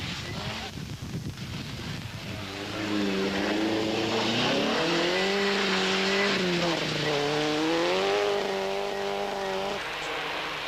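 Lancia rally car at a rally passing close by, its engine rising and falling through the gears in a loud, sustained roar with pitch sweeps as it accelerates past.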